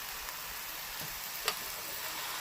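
Drumstick flowers stir-fried in a pan with shrimp and poppy seed paste give off a steady sizzle with faint scraping as the mixture is turned, moderately loud and without voices.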